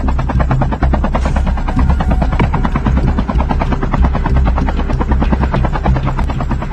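A helicopter in Call of Duty thunders loud and close, its rotor chopping in a fast, steady pulse over a heavy engine roar that fills the whole stretch.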